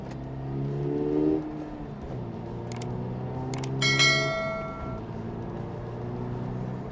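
A car engine hums steadily from inside the cabin at about 80 km/h and 2,000 RPM, its pitch rising and shifting with short-ratio gear changes, while a few bright chimes ring briefly.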